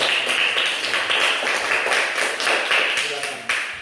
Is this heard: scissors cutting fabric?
no